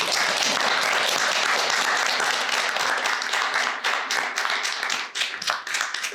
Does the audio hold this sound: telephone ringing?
no